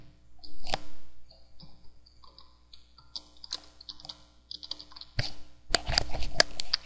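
A website name being typed on a computer keyboard: quick, close, irregular key clicks in short runs, ending in a louder flurry of keystrokes and clicks.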